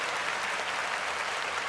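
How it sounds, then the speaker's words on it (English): Studio audience applauding steadily at a sports podcast taping, a dense, even wash of clapping that holds at constant loudness throughout with no voices over it. "Give yourselves a round of applause"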